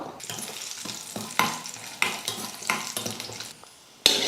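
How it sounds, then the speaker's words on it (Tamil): Cashews and raisins frying in a pan, a crackling sizzle punctuated by repeated rhythmic stirring scrapes about every half second, then a brief quieter pause and a sharp clink of metal near the end. "இப்போ முந்திரி போட்டு வறுத்துக்கலாம் முந்திரி ஓரளவுக்கு வறுப்பட்டதுமே திராட்சை சேர்த்துக்கலாம்"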